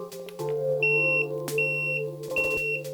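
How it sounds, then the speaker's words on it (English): A portable jump starter gives three short, high-pitched beeps, evenly spaced, over a steady background hum, as jump start mode activates. "Beeps 3 times and then it activated your jump start."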